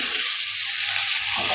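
Pumpkin and freshly added potato pieces sizzle steadily in a hot pan with a continuous bright frying hiss, a few soft stirring scrapes mixed in, close and fairly loud.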